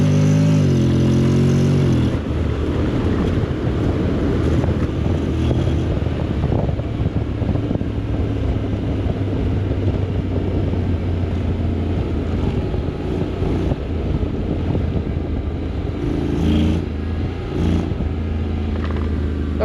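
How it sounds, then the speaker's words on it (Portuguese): A Honda X-ADV 750 scooter engine drones steadily throughout on a rough road, loud and close, with a rough exhaust rumble that rises briefly near the start. "este barulho do escape é fixe"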